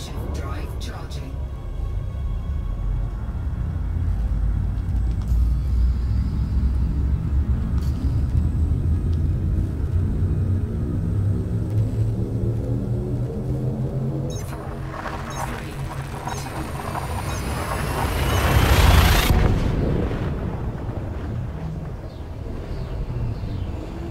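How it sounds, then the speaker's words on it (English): A spaceship's frameshift drive in a space pirate-hunting game charges with a steady low rumble, rising pitched tones sweeping upward, then a loud surge and burst as the jump engages before settling back to a hum. "Frameshift drive charging."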